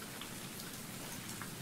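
Rain falling in the video game Sew in Love, a constant close patter and hiss of drops on a surface, even and unbroken throughout.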